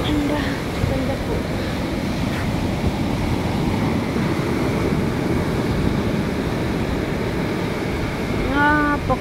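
Sea waves wash steadily onto the shore of a wide open sea, a constant, close roar of surf with wind. A brief warbling tone sounds near the end.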